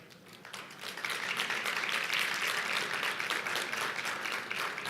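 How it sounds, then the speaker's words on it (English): A conference audience gives sustained, steady applause as a panel walks out for a session on the food system and the information economy, the clapping dense and even for the whole stretch. "Oh, about another 15 seconds of that rousing applause."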